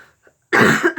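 A single sharp, close cough bursts out after half a second of near silence, loud and rough, trailing off at the end.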